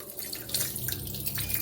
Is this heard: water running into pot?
yes